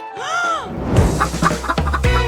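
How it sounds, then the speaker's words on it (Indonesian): Chickens in a light-hearted cooking challenge cluck and squawk in a rapid string of sharp calls, loud and close, after a rising whistle-like tone at the start. "aku punya ayam di sini"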